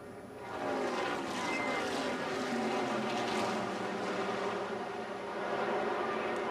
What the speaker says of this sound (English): At normal speed from the in-car camera, let's ride with Davey Allison as he lived through this moment at Talladega.